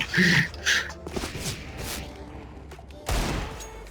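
Nova shotgun fire in the video game CS:GO against bots, two sharp close blasts at the start, quieter distant clatter in the middle, then another heavy shot near the end.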